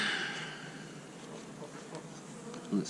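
Honey bees buzz around a winter hive's brood frame, a close, continuous, softly droning hum with no voices.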